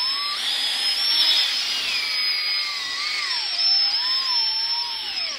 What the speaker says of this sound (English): You could even start with the slower setting on your drill.